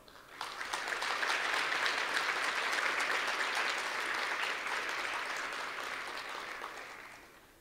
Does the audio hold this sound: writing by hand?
no